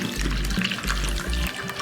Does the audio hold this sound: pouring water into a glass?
yes